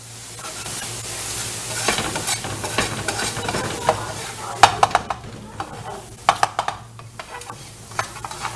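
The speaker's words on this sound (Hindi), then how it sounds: "और फिर से हम इसे मिक्स करते जाएंगे" Kata kat meat with ginger and added hot water is stirred in a sizzling pan, a spatula scraping and clattering against the metal in quick irregular strikes over steady frying hiss.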